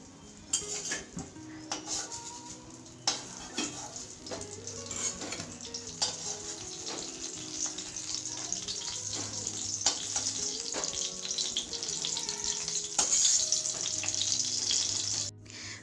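Eggplant slices fry in oil in a home kitchen pan, giving a steady sizzle that slowly grows louder. Utensils clink and scrape against the pan now and then throughout. No one speaks.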